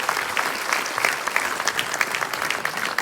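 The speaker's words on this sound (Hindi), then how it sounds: "श्री एसएस साहा जी, एक बार जोरदार तालियों से स्वागत करें सर का।" Enthusiastic audience applause at a CSS Day 2023 event at the Ambedkar International Centre, New Delhi, welcoming a speaker to the stage; steady, dense clapping of a large crowd fills the whole stretch.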